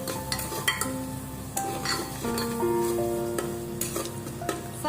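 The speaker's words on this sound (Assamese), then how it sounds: "এতিয়া ভালদৰে আকৌ লৰাই দিম।" A spoon stirs egg biriyani in a pressure cooker with soft scraping and clinks over a faint sizzle, repeated at a steady, close pace.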